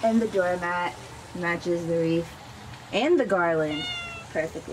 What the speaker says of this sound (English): Oh, that was my cat.